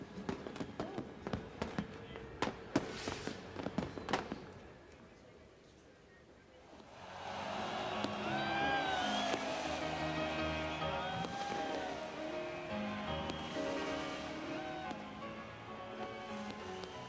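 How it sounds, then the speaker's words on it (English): Midnight fireworks around the Eiffel Tower at a millennium celebration: a run of sharp, distant bangs and crackles at first, then a lull and a swelling wash of crowd noise and whistling bursts, with commentary talk over it. "They've got thousands upon thousands of pounds worth of fireworks going off around there."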